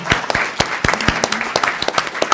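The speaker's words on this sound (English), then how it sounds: "I want to applaud everybody." Audience applause at the end of a panel talk at The New School for Social Research, a burst of scattered, uneven hand claps from a modest crowd, close and fairly loud.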